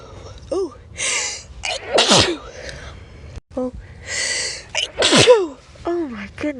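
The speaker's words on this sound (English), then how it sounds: "I did not expect to sneeze that much" Repeated sneezes set off by a Q-tip pushed into the nose, several sharp bursts close up with gasping breaths and short vocal sounds in between, coming in two clusters.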